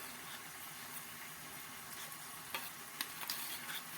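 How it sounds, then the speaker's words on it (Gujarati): A gram flour (besan) mixture for a drumstick leaf and flower curry is stirred smooth, a faint, even hiss with a few light spoon clicks and taps toward the end; no speech. "તો આપણે આમાં ગાંઠા ન રહે એ રીતે એને મિક્સ કરી દેવાનું છે"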